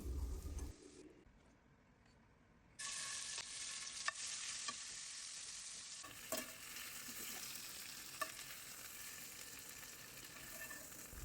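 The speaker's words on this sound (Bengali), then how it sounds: "ওই তেলে চিংড়ি মাছগুলো ভেজে তুলে রাখবো।" Prawns fry in hot oil in a wok, giving a dense continuous sizzle that drops away briefly and then surges back loud and close, with a few clinks and no talking.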